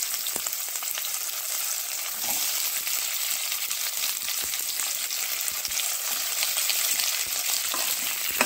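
Chopped onion sautéing in hot oil with ginger and chilli, cooked until maroon brown: a steady bright sizzle runs throughout, broken by frequent scraping stirs of a spoon against the pan.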